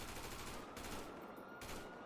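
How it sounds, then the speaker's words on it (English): Gunfire during a GTA roleplay shootout on a rooftop with police: a dense, continuous rattle of rapid shots, like a fusillade, steady and fairly faint throughout. "Firing at us from across the way."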